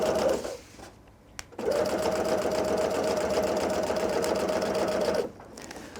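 A sewing machine top stitches along the side of a drawstring backpack, running in a short burst, pausing briefly, then stitching steadily for several seconds before stopping.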